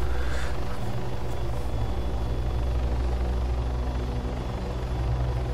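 A military helicopter in a combat simulation game settles in to land, its rotor thudding in a heavy, rhythmic low pulse under a steady turbine whine, loud and close, with no voices.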